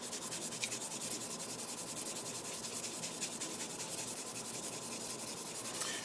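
A knife blade is hand-sanded with sandpaper, giving steady rapid back-and-forth rasping strokes that stay close and even and run continuously without talk.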